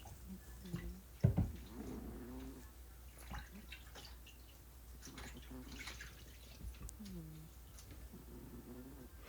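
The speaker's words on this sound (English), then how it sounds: "And now I'm washing my hands and emptying the water." Hands being washed and water emptied during homemade sourdough prep in a homestead kitchen, faint splashes and drips with one sharp knock, under intermittent quiet voices.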